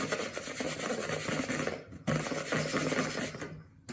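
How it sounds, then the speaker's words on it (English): Wool felt rubbed back and forth across plates, a steady close scratchy friction with a brief pause near the middle, loud and continuous with no talking. "So now I'm going to try to rub the wool felt on each of these plates."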